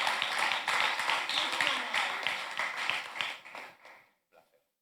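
A conference audience applauds in a dense, steady patter of claps that holds for about three seconds, then thins and dies away into a few scattered final claps.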